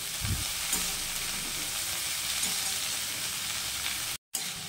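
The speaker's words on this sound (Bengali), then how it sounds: "কেটে রাখা শাকগুলো দিয়ে দেবো। ভালো করে নাড়তে থাকবো।" Chopped fresh greens stir-fried in hot oil with fried garlic and black cumin, a steady loud sizzle with scraping stirs near the start, close and continuous, no talking.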